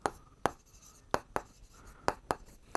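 Pen or chalk strokes tap and scrape in short separate bursts, about seven of them in quick uneven rhythm, while a maths lesson on triangle area is written out.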